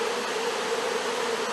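A brief, steady hum of honey bees from a swarm settled in a hive, a dense even drone heard up close and alone.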